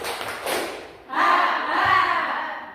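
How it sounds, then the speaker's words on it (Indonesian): An audience in a classroom or seminar hall claps in unison twice, two dense bursts of hand claps with a faint crowd murmur, fairly loud and close. "Tepuk dua kali."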